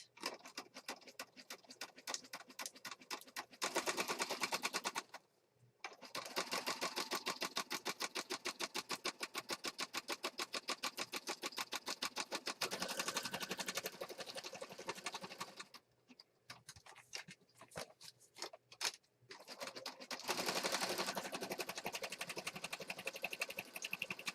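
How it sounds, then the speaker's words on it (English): A sewing machine stitches a purple floral fabric junk journal page, its needle ticking in fast, even runs that stop and restart several times across the clip, close and with no talk. "now I'm going to start sewing just in from the edge a little bit"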